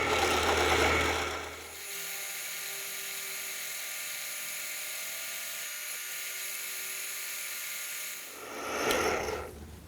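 A case trimmer cuts down a 9mm brass case, giving a steady, loud grinding rasp for about seven seconds between louder bursts at the start and end, with no talk.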